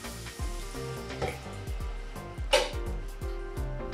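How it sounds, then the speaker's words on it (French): Onion and garlic sweat in a pan with a soft sizzle underneath, overlaid by a run of regular knocks and scrapes from a utensil working the pan, close and moderately loud. "On fait suer l'oignon, l'ail."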